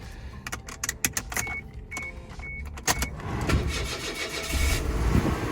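Keys jangle and an engine cranks and catches, settling into a steady idle that grows slightly louder, with a few clicks and beeps along the way.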